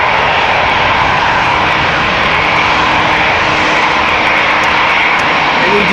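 KLM 747-800 jet airliner at Amsterdam Schiphol Airport, its engines giving a loud, steady, close roar that fills the whole stretch with no talking.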